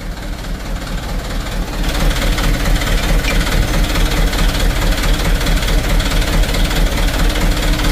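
A rebuilt Mitsubishi Strada Triton diesel engine runs steadily, warming up after starting, with a loud low knocking idle throughout and a slight rise in level near the two-second mark.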